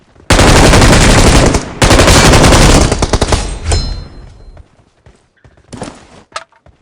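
Bursts of automatic gunfire from a video game, a loud sustained volley followed by a second long burst, then scattered shots and thuds trailing off, with a brief closing burst.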